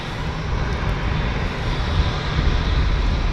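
A KLM jet airliner roars steadily at close range on a cold, damp morning at London City Airport, a broad continuous engine rumble with no talk over it.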